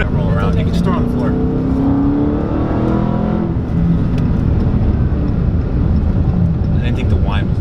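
A Dodge Hellcat with a 6-speed manual gives a loud supercharger whine over engine roar while driving, rising and falling with acceleration, heard from inside the car with people talking.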